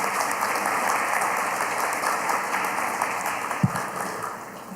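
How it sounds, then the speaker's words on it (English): An audience at a candidates forum claps steadily for a legislator arriving at the event, a dense, even wash of applause from a room full of people lasting several seconds. "Please give her a round of applause"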